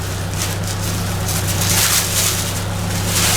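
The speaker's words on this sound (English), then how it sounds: "I cannot believe that tractor is still running." Ford 800 tractor with a leaking carburetor running steadily nearby, a constant low engine drone under rustling outdoor noise, no speech.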